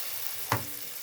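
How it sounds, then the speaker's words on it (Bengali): A bread slice dipped in besan batter fries on a tawa, giving a steady close sizzle with one brief soft knock midway. "এই দেখো আমি পাউরুটিটা এবারে বেসনে চুবিয়ে দিলাম। এবার আমি তাওয়ায় দিয়ে দিচ্ছি।"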